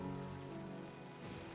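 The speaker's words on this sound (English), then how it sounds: "the torrential rain comes down all around her" Torrential rain in the game Punishing: Gray Raven pours down steadily as a dense, continuous wash, with a low tonal drone beneath it and no voices.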